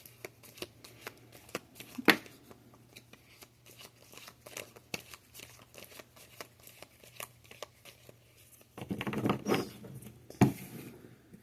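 Tarot oracle cards being shuffled by hand in a quiet room, a long run of soft riffling flicks and taps with a denser, louder burst of shuffling near the end.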